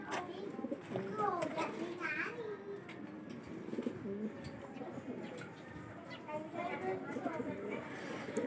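Pigeons cooing inside a loft, soft repeated coos near and far against a quiet background, with someone talking over them.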